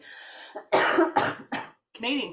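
A woman coughs several times in quick, harsh bursts close to the mic, a short, choppy series with a brief vocal sound at the end.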